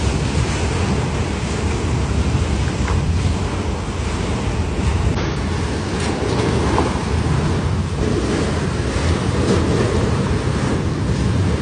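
Pool water sloshing and surging in waves during California's 7.1 earthquake, a loud, continuous broadband wash of churning water with heavy wind buffeting on the microphone throughout.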